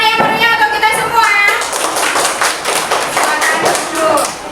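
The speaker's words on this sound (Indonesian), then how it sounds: "Tepuk tangan yang meriah untuk kita semua." Students in an Indonesian classroom clapping together, a busy burst of close hand claps mixed with shouting voices and excited chatter running through the whole stretch.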